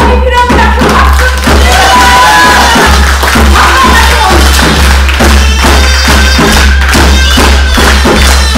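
Audience clapping at a Korean jaedam sori (traditional comic storytelling and song) stage performance, a dense, steady wash of applause with rhythmic beats and music underneath throughout.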